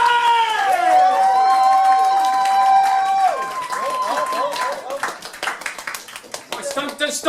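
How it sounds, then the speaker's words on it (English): A stand-up comedy crowd at a one-year anniversary show claps hands loudly and steadily, mixed with whoops and cheering voices, thinning into scattered claps near the end. "Let me hear you clap your hands"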